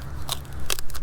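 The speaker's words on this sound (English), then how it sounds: "Let's take this plastic cover" A plastic cover is pulled off a CYCPLUS AL7 smart tire inflator, making loud, close crinkly crackles in two quick bursts followed by lighter rustling.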